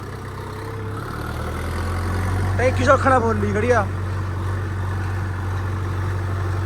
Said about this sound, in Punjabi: ਟਰੈਕਟਰ ਲੈ ਜਾਂਦਾ ਆਹ ਰੈਡੀ ਆ ਹੁਣ ਤੇ ਮੈਂ ਚੱਲਿਆ ਖੇਤ